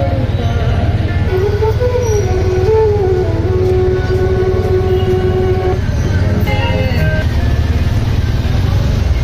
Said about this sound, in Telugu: అప్పుడే చూడండి ఎంత ట్రాఫిక్ ఉంది.